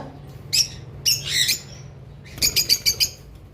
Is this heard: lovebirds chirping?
yes